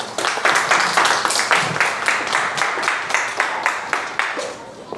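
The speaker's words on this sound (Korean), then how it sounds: "큰 박수로 모셔보겠습니다." Seminar audience applauding to welcome a speaker onstage, a steady burst of clapping lasting several seconds with rhythmic peaks, fairly close and loud, easing slightly toward the end.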